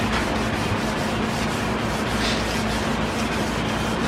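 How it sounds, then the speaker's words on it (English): Continuous, rapid rasping of sandpaper rubbed back and forth over a clear-coated surface, close and steady for several seconds without pause. "so I gotta keep sanding"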